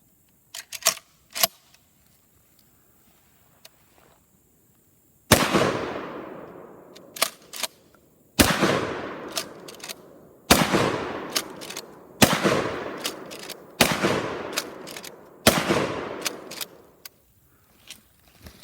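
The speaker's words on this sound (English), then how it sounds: "This is the aftermath of the shotgun." Several loud shotgun blasts fired at a boxed cardboard package, each a sharp crack with a long decaying tail, spaced about two seconds apart after a few smaller clicks and taps at the start.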